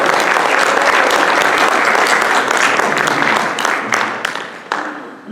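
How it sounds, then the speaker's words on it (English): An audience at an anniversary celebration in Monterey County, California gives loud, sustained applause that thins out into scattered individual claps before fading. "Can we get a big round of applause for all of that work?"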